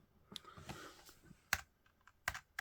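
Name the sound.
computer keyboard typing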